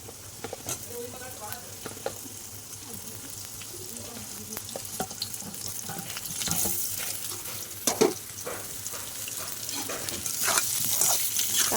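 Potatoes frying in a pan while being stirred, a low steady sizzle with scattered utensil scrapes and taps, close and moderately quiet, growing slightly busier toward the end.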